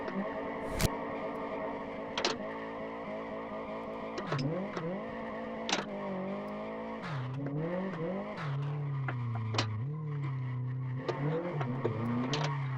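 A modded Tofaş car in a racing video game revs and accelerates, its engine pitch climbing and dropping between gear shifts, with occasional sharp pops and tire squeals, loud and up close.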